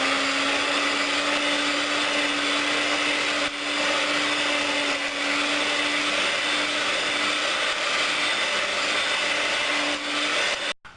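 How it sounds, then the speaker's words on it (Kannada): An electric beater whirs steadily through an egg mixture with vanilla essence for chocolate chip cookie batter, a continuous close motor hum with a strong steady tone, cutting off sharply at the end. "ಇದಕ್ಕೆ ವೆನಿಲಾ ಎಸೆನ್ಸು, ಇದು ಹಾಕ್ಕೊಂಡು ಚೆನ್ನಾಗಿ ಬೀಟ್ ಮಾಡ್ಕೊಳ್ಳೋಣ"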